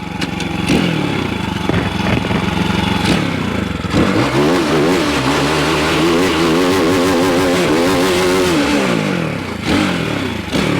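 A motorcycle engine revs loud and close as the rear tire spins to heat it, with blipping throttle bursts giving way to a sustained, wavering high-rev roar and mechanical clatter.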